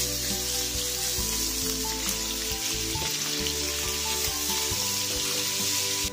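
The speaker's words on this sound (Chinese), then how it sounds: "现在来把我们的五花肉也煎一下" Pork belly slices frying in a wok to render their lard, a constant crackling sizzle close at hand with a low steady hum underneath.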